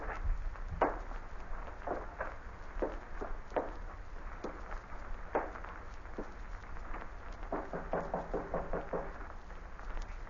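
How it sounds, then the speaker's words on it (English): Knocking on a door at the end of a quiet passageway in an old radio drama, several separate muffled raps spaced across the stretch, over faint steady background hiss. "Just go up to the door, and I'll knock."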